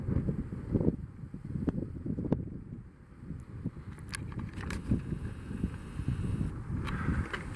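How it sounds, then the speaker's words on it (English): Wind blows steadily outdoors near mountains as low, gusty rumbling buffets the microphone, with a few faint clicks and rustles and no voices. "the wind ain't too bad"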